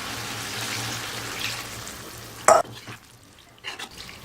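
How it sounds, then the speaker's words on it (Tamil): Bottle gourd curry stirred and fried in a pan, a steady low sizzle with scraping spoon strokes and one sharp clatter partway through, then quieter stirring. "நல்லா கலக்கி விட்டுடுங்க"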